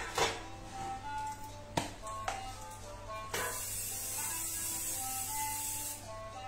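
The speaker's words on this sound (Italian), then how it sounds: "Andiamo ad imburrare, come faccio io con lo spray." Butter release spray hisses from a can into a cake tin for a peach sponge cake, a sustained close spray after a few short taps and clicks, with faint background chatter.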